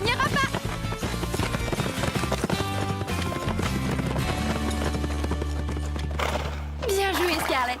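In a cartoon, horses gallop in a race, their rapid hoofbeats under loud music with a whinny, while voices talk over the scene.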